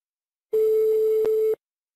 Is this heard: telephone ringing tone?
yes